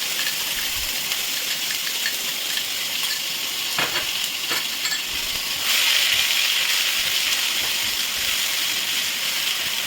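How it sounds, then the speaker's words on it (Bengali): Onion, ginger and garlic paste fries in hot oil with dried red chillies and bay leaf, a steady broad sizzle with a few sharp stirring scrapes, growing slightly louder midway. "একটু ভালো করে কষিয়ে নেবো"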